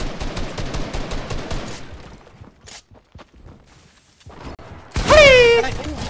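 Gunfire in Fortnite Battle Royale: a rapid burst of automatic shots for under two seconds, then a few scattered single shots, followed by a loud sweeping whoosh-like effect.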